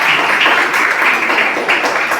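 A church congregation clapping in praise, loud, close and continuous, a thick mass of hands with slight surges in intensity over a short stretch.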